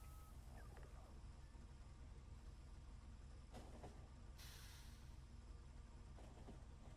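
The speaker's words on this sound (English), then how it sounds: "All of these trains should be able to move now." Trains rolling along tracks in the video game Factorio, a steady low rumble with rail clatter and a brief hiss burst, continuous throughout at low level with no talk.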